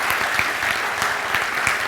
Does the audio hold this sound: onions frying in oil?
no